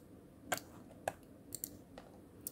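Mouse clicks on a computer's save button, a handful of short, faint, sharp ticks spaced irregularly against a quiet room background.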